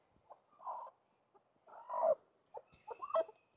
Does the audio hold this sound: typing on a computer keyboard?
no